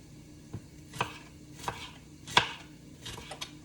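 Peppers being chopped with a knife on a cutting board: a handful of separate, crisp knife strikes spaced irregularly, fairly close and clear with no talking.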